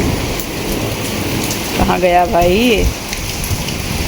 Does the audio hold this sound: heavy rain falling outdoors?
yes